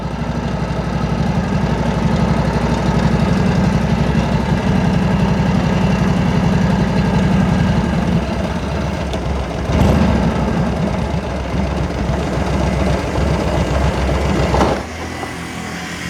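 Old Harley-Davidson motorcycle engine running at idle, a loud, close, steady rumble with a lumpy beat that shifts in tone partway through and briefly rises near the end before settling lower.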